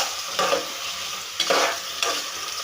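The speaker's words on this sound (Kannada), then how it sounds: "ಸ್ವಲ್ಪ ಟೊಮೊಟೊ ಹಾಕಿ ಫ್ರೈ ಮಾಡಿ, ಸ್ವಲ್ಪ ಮೆತ್ತಗಾಗಬೇಕು." Onion and tomato frying together in a pan, a steady close sizzle broken by three scraping stirs of a spoon, with no one speaking.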